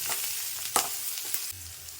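Onions sautéing in a pan for a spicy onion-tomato chutney, a steady close sizzle of frying with a few sharp scrapes of stirring, no voices.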